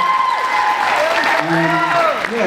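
Applause and cheering at a student cultural night, with whooping, rising and falling voices riding over a wash of clapping hands, loud and close.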